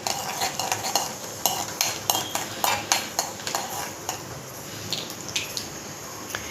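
Cumin seeds frying in hot oil in a pan, with a steady crackling sizzle broken by a run of sharp, close metallic clinks and scrapes from stirring, and no voices.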